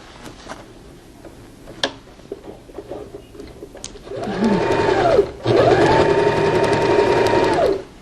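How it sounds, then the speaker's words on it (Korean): Sewing machine stitching cut non-slip fabric onto the base of a patchwork bath mat, with scattered handling clicks first, then two loud, close bursts of rapid whirring stitching separated by a short pause. "이렇게 논슬리 원단을 지금 재단해서 이렇게 박음질 할 겁니다"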